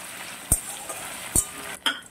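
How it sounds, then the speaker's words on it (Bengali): Small paneer cubes frying lightly in oil in a pan, a soft steady sizzle punctuated by three sharp metallic clinks of a utensil against the pan. "আমি পনিরগুলো খুব বেশি ভাজবো না, অল্প ভেজে তুলে নেব"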